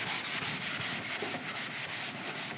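An eraser rubs writing off a board in quick, even back-and-forth strokes, a soft rhythmic scrubbing close by with no voices.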